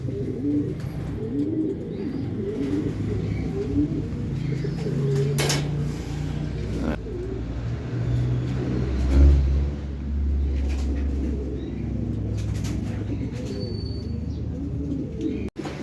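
Pigeons returning to a racing loft coo in low, repeated calls near at hand, with scattered chirps and faint passing traffic behind.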